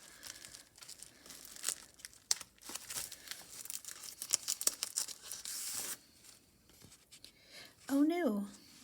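A cute Cyber Monday sticker is peeled from its backing and pressed into a Jibun Techo A5 Slim planner: scattered soft crinkles and papery rustles, fairly close, with a brief voice near the end.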